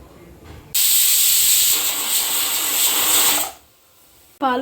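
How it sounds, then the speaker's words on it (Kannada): A pressure cooker of palak dal khichdi lets out a loud, steady steam whistle for about three seconds, close and hissing, then it cuts off and a brief voice follows. "ಇದನ್ನು ಈಗ ಲಿಡ್ ಕ್ಲೋಸ್ ಮಾಡಿಬಿಟ್ಟು 2-3 ವಿಷಲ್ ಕೂಗಿಸ್ಕೊಳ್ಳೋಣ."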